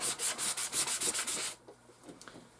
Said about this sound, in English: Let me get a different piece of sandpaper and see what that does.